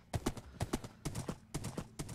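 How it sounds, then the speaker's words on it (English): Horse hooves clip-clopping at a steady trot in Minecraft while the player rides, with evenly spaced clusters of soft hoof knocks repeating close and clear. "get on the horsey and let's go"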